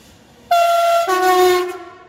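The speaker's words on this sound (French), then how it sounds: "c'est l'un des meilleurs klaxons." A Z 20500 electric commuter train horn blares close by in two loud, overlapping tones, starting abruptly and holding for over a second before fading.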